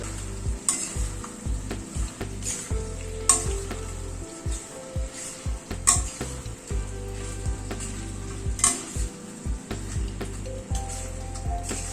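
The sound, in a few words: stirring spices with roasted coriander powder in a frying pan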